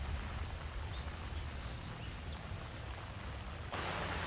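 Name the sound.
rain falling on a rainy day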